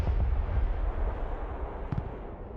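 A rumbling explosion from a Javelin missile striking a small embankment in the war game Broken Arrow, a heavy low boom fading into a rolling tail with a faint second thud, no voices.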